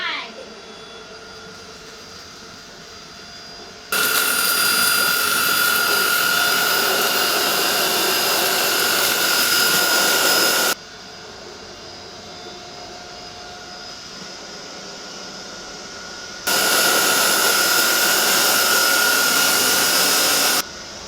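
A Roidmi F8 Storm cordless vacuum cleaner runs on a bare floor, picking up dirt in a single back-and-forth pass, its loud steady whine starting and stopping in two long bursts with quieter gaps between.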